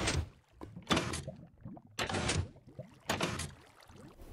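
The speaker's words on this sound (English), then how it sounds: "Powering the bottom trace opens the spider crusher and spider intake trap door." A Minecraft trap door in a cave spider farm opens with several quick wooden clunks, about four close, fairly loud knocks spaced roughly a second apart, with no voices.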